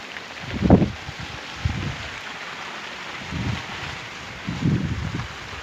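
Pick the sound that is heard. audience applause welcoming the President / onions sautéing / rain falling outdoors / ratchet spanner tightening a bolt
rain falling outdoors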